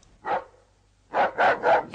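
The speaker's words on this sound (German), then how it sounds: "mutig gewordene Pumuckl bellte so, dass der Tyras, ein Wolfshund aus dem Vorderhaus, sich veranlasst fühlte, auch wieder zu bellen." A wolfhound barking in a 1969 radio play: one bark, a pause, then three quick barks in a row, close and loud with no talk over them.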